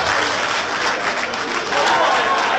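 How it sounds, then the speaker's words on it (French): Audience applause at a live concert in Montreal, a dense and steady roar of clapping from a large crowd that swells louder toward the end, with faint voices mixed in. "Je voudrais qu'on applaudisse pour cette initiative camerounaise."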